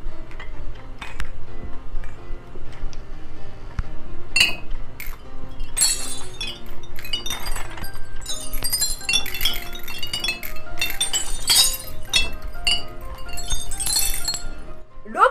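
Glass breaking and clinking in the video game I Am Bread, rampage mode, as a bread loaf smashes things: repeated sharp shattering crashes and tinkling shards, thickening from about four seconds onward over a steady low background.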